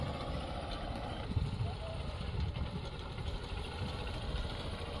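A motorcycle-pulled bike trolley engine running slowly in single gear, a steady low rumbling drone close by with a constant level throughout and slight irregular chugging, with some background voices.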